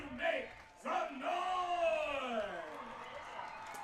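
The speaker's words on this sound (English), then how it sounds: "here comes the noise from the Silver Creek crowd" High school football crowd at Silver Creek hosting New Albany, a swelling roar of yells and whoops from the stands, fairly distant, rising then holding steady while a commentator talks over it.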